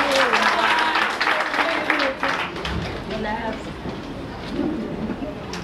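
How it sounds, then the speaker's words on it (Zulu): Audience applause for a guide at an offline gathering in Pietermaritzburg, South Africa, a burst of close, busy clapping mixed with voices that gradually thins out. "cela simuphe ihlombe"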